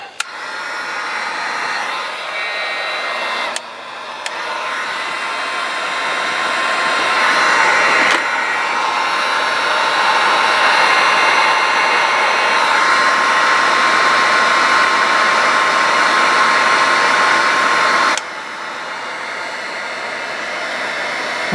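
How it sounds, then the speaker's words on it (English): Heat gun blowing hot air steadily onto a stuck part of a Zenith 28T960 radio, a loud continuous whoosh with a high whine that shifts pitch and cuts out briefly near the start. "Okay, heat gun time."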